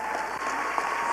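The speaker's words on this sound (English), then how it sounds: "somebody give her a clap" An audience claps steadily at a community dance charity event, a dense, continuous wash of applause filling the room without pause.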